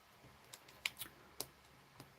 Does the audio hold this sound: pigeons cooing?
no